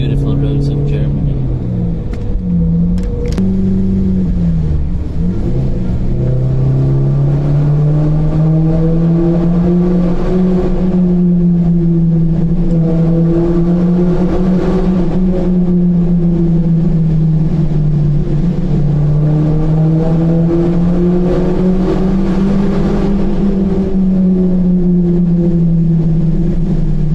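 A 2007 BMW 1 Series 116i E87 cruises on German roads, heard as a loud, steady engine and road drone from inside the car, its pitch slowly rising and falling with speed changes over nearly half a minute.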